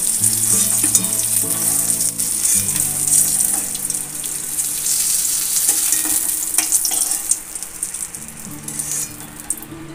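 Pointed gourd pieces fry in oil in a pan, a loud, continuous close sizzle and crackle with bursts of spitting and occasional stirring noises throughout.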